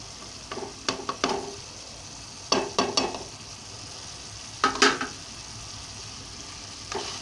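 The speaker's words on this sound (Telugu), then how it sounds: "ఇప్పుడు తిప్పాలి బాగా." Mutton curry with tamarind leaves being stirred in a pan: clusters of sharp scraping and clattering stirs over a quiet simmering background, fairly close, no voices.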